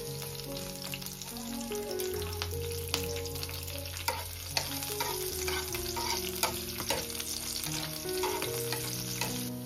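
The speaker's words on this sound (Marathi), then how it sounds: "चला आता आपण कढीपत्ता टाकू. त्याच्यानंतर लगेच आपण लसूण टाकू." Curry leaves and garlic crackle and sizzle in hot oil for a Konkan-style fish curry, a dense close frying hiss with sharp pops and spits throughout, steady and moderately loud with music-like tones underneath and no talking.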